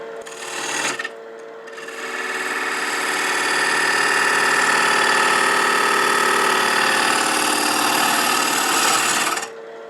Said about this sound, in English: I'm going to use the bowl gouge for that and just sweep it around.